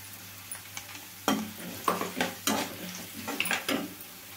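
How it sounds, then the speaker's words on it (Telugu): Onions frying in a pan while making Telugu-style mango thokku pickle, with clinks and scrapes of a spoon stirring against the pan over a soft sizzle, in irregular bursts. "ఉల్లిపాయ కలర్ వేగాలండి, బాగా వేగితే మంచి టేస్ట్ వస్తుంది"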